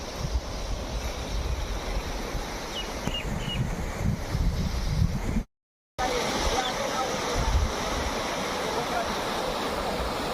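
Floodwater from a swollen stream rushing across a farm field, a loud continuous roar of churning water heard close by, broken briefly by a short gap.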